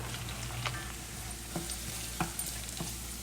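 Carrots sizzling and frying in hot oil tempering in a pan, a steady close crackle with a few brief stirring clinks and scrapes, no voices.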